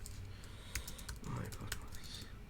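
Typing on a computer keyboard during a live coding session gives faint, irregular key clicks over a low background hum, close by but quiet.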